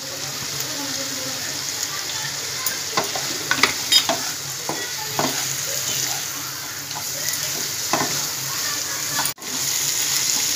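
Masala for bhindi frying in a pan while being stirred, giving a steady close sizzle with scattered scraping clicks of the spoon, followed by a brief break near the end, no talking.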